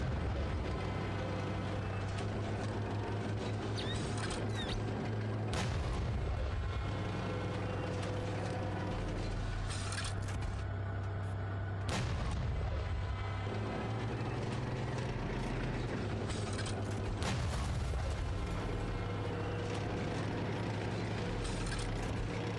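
Tank being driven in the video game Directive-0, a steady low engine rumble with clanking track noise holding throughout, broken by a few louder bursts, with no talk over it.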